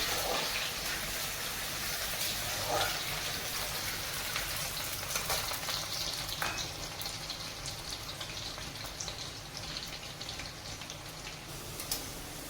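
Chopped medium onion frying in hot oil for a Bengali-style mutton curry, a steady loud sizzle and crackle with patter-like spatters throughout, no talking.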